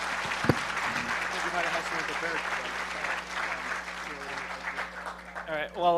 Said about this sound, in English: Philip Tyrone and Lady Ada, give them a round of applause.